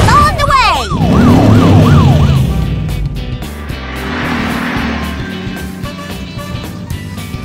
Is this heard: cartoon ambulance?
yes